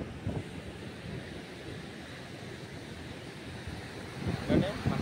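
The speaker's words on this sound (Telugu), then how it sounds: "చూసారా సముద్రం అంతా అలా ఎగిరెగిరి పడుతుందో." Sea waves at a Chennai beach roll and break steadily under a muffled wind rumble, and a louder surge comes near the end.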